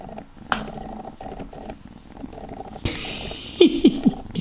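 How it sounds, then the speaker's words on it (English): A hairless Sphynx cat wearing a cone purrs close up in a steady low rumble, followed by a few brief louder vocal bursts near the end. "Rose really wanted a Sphinx cat, which is what Luna is, so a hairless cat."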